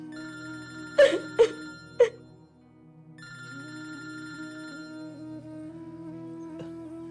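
A telephone goes unanswered, opening with three sharp electronic rings in quick succession followed by a steady repeating ringtone tone that sustains quietly after a brief gap.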